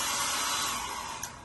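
A hair dryer blows steadily across a wet watercolor painting, a loud, continuous broadband whoosh that holds for the whole moment with only a slight dip near the end.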